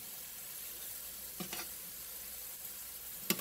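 Onions fry in oil in a pan with a soft, steady sizzle, broken by a few brief clinks of a utensil.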